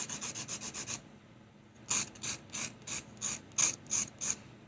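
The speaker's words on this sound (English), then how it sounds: "I'm rolling it as I'm going back and forth up and down the sanding block." Charcoal pencil lead rubbed back and forth along a sanding block, first as six quick, even rasping strokes, then after a short pause a second run of about eight louder scratchy passes, close and alone.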